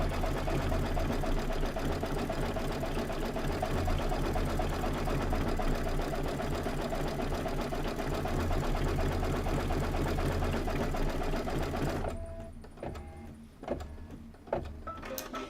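A sewing machine stitches a placement line in cream thread, a fast, steady mechanical whir for about twelve seconds that then stops, followed by a few soft clicks and handling noises.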